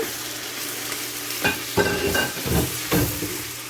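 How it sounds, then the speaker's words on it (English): Onions, two bags' worth, sizzling in a pot for chicken curry while a utensil stirs them, several scraping stir strokes over a continuous frying hiss, close and with no talking. "Okay, give it a stir."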